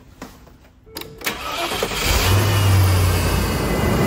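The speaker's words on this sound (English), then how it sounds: "Let's start the engine and see if it turns off like it's supposed to." A 12V car with a mouse blocker fitted cranks and its engine catches, a few clicks and a short whirring crank giving way to a loud steady running rumble that rises and holds close by.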